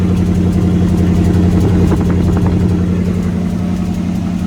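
A pickup truck's V8 engine, a 1986 Chevy K10 with new spark plugs, running at a steady high idle, a loud, continuous droning rumble with no talk over it.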